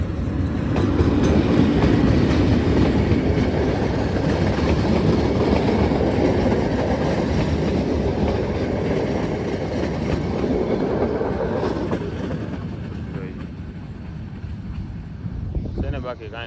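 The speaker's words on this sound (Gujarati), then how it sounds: "આ બાજુથી જો ટ્રેન આવે તમને બતાવું દેખાય જો ભાઈ આવી ગઈ ને ટ્રેન મસ્ત મજાની" A train rumbles past close by through forest, a loud continuous roar with rattling wheels that slowly fades toward the end.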